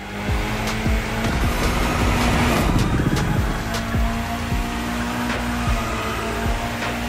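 A Mitsubishi Evo X drifting in the racing game The Crew Motorfest, a loud, sustained engine drone with rising and falling revs and tire squeal, close and continuous.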